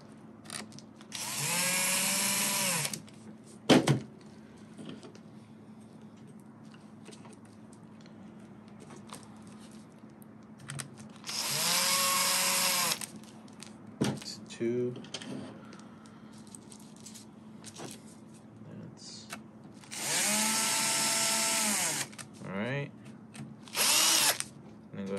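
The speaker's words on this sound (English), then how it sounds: "just go ahead and start putting in some of the screws" A power drill drives screws while a CarPlay unit is fitted in an Infiniti Q50, giving three loud, close whirring bursts of two to three seconds each, separated by quieter clicks and handling noise.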